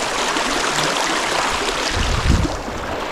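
Rushing river water in the western Sierra mountains of California as someone wades across, a close, steady churning flow with a brief louder splash of footsteps near the end.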